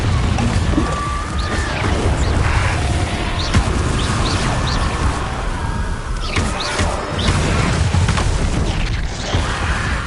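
Confringo fire spells in Hogwarts Legacy burst repeatedly as loud whooshing blasts over continuous game ambience and effects.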